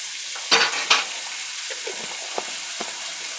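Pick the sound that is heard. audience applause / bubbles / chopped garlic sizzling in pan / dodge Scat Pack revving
chopped garlic sizzling in pan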